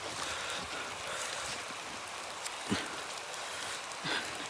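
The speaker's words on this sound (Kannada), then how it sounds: "ಮಳೆ ಜೋರಾಗಿ ಹಾಕೋಕ್ಕೆ ಸ್ಟಾರ್ಟ್ ಆಗ್ತಿದೆ, ಶಬ್ದ ಕೇಳಿಸ್ತಾಯಿದೆ ಅನಿಸುತ್ತೆ ನಿಮಗೆಲ್ಲ" Heavy rain starts falling at night in a graveyard, heard as a dense steady hiss of drops on surfaces. There are a few soft knocks and rustles nearby, and no talk.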